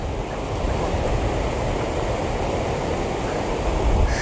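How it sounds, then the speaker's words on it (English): Strong outdoor wind roars into the microphone as a steady, loud rush of buffeting noise throughout, with no voices. "The wind just picked up big time."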